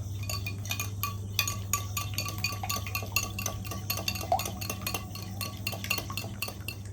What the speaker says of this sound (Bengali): দিয়ে আমি ডিমটাকে ভালো করে একটু ফেটিয়ে নেব